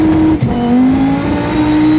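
An Acura NSX Type-S hybrid supercar engine revving hard on a wet back road, a loud, close, strained tone that climbs in pitch after a brief dip, with a hint of tire noise.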